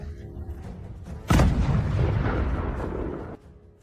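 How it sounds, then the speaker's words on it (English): A loud explosion from an FPV kamikaze drone attack on a soldier bursts in suddenly after a short stretch of quiet, then rumbles and roils for about two seconds before cutting off abruptly. "A second explosion killed the soldier."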